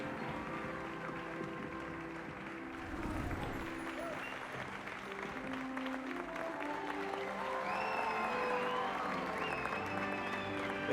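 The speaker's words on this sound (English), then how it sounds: "I don't know why everybody's cheering." A crowd cheers and applauds steadily inside Hogwarts Legacy, a Harry Potter video game, at a house sorting, building slightly louder over time with game music underneath and a voice speaking over it.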